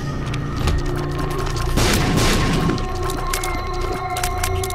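Explosions in the Binding of Isaac: Rebirth video game: a dense burst of booming, crackling blasts over a busy electronic game soundtrack, peaking for about a second before settling back beneath the music.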